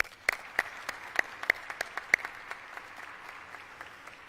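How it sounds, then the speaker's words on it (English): Scattered applause from a press briefing audience at the Ford Field COVID-19 vaccination site, a sparse run of individual claps with a few louder hits near the start, thinning out over a few seconds without speech. "We should applaud our Michigan National Guards women and men"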